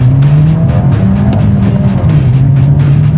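A turbocharged BMW engine revs hard and steadily at high rpm, up to 6700 rpm, on a dynamometer, a loud continuous drone with a strong low tone and no talk over it.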